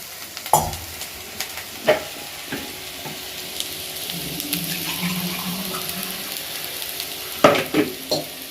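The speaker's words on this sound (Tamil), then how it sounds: "இப்போ பூண்டு போட்டாச்சு. பூண்டு நல்லா வதங்கட்டும்." Garlic sautés in a hot pan with a continuous sizzle, broken by a few sharp stirring clatters at the start and end, heard up close with no talk.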